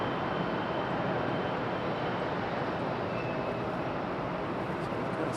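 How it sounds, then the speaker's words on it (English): A Delta airliner taxis toward the end of the runway at Raleigh-Durham International, a constant broad jet roar from a distance that holds even and unbroken throughout. "We've got a Delta on the move out to the end of the runway."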